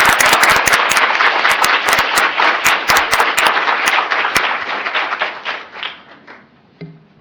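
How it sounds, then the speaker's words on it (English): An audience claps for panelists at the close of a panel discussion, a burst of sharp individual claps that thins out and fades away after about six seconds. "can we have a round of applause for the"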